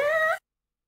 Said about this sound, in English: I have two audio examples of trill meowing for you to begin with.